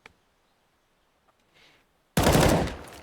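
Gunfire in a Counter-Strike match on the Inferno map: after near silence, a sudden loud, sharp burst of shots hits and then fades quickly.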